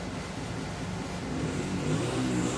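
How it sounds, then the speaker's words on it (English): Motorcycle engine running outside a garage, heard as a steady low rumbling idle with a slight rise in revs, fairly distant and alone with no talk over it. "Sounds like they got a motorcycle running out there."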